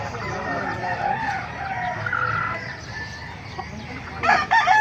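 Roosters and hens at a Bocaue market stall cluck and call amid a busy, steady din of background chatter, with a sharper burst of crowing near the end.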